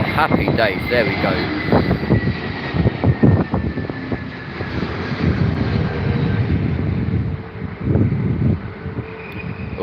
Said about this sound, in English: An A321 Neo from Malaga, very nice indeed.